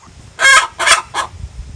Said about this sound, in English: Do you hear these chickens right now?